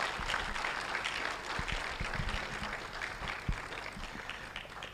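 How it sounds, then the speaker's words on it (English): An audience at the opening ceremony of the IOSH West Africa Conference 2023 in Ghana gives a steady round of applause, a dense, even wash of clapping that holds for the whole stretch at moderate loudness. "In Ghana, we give ladies a louder round of applause."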